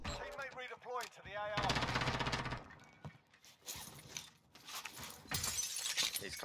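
Gunfire in a battle royale video game: rapid bursts of shots and sharp cracks in clustered volleys, with a voice briefly audible near the start and game sounds in between.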